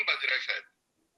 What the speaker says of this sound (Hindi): आपका फोन बज रहा है शायद।